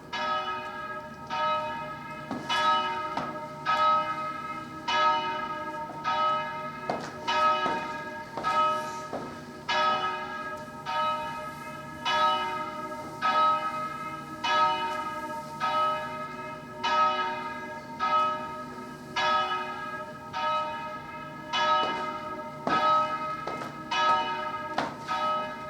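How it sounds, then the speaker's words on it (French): Church bells ring the tocsin alarm in a rapid, insistent, repeated peal, loud and close, with strikes coming in regular pulses that continue throughout, with no voices. "Alertés par les cloches, tous les habitants ont accouru."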